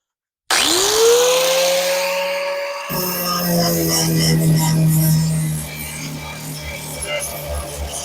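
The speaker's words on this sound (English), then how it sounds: "we're gonna take our flap disc and we're just gonna smooth out our welds" An abrasive flap disc on an angle grinder smoothing welds on a patch panel in a classic car's rusted floor, whining loudly as it spins up and then grinding steadily at close range without a break.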